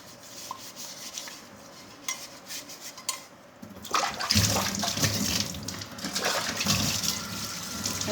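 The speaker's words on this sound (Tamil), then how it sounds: "நல்லா சவரி வச்சு நல்லா தேய்ன்னு தேய்ச்சோம்னா பளபளன்னு ஆயிடுதுங்க" A brass vessel is scrubbed with a scrubber and water, a close, rough rasping and sloshing that grows louder and busier partway through.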